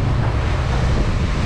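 Rough North Atlantic swell washing against a hake gillnet fishing boat in the evening, a loud, steady, unbroken roar of water and wind buffeting close to the microphone, with no voices.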